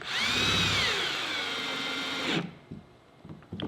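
A power drill drives a Phillips head screw through a kayak hull, a loud whirring whine that rises in pitch and runs steadily for about two seconds before cutting off, followed by a few faint clicks and knocks.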